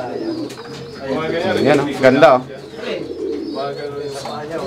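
Pigeons coo softly in the background while someone talks over them, the birds' low murmuring continuing throughout.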